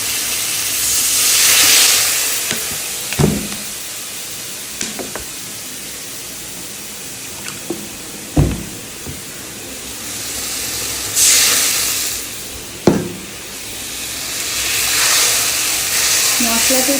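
Spice paste of ground ginger, green chili and cumin powder sizzles in plenty of hot oil, a steady loud hiss with bursts of steam and a few sharp clinks of a utensil against the pan.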